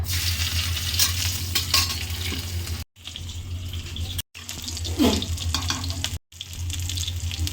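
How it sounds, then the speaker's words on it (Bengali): Chui (Piper chaba) stem being lightly fried and stirred in a pan, with a steady close sizzle, clattering scrapes of the spatula and a running-water wash, broken by a few brief edit gaps. "চুইটা দিয়ে দিয়েছি চুইটা হালকা ভাজা করে নিয়েছি"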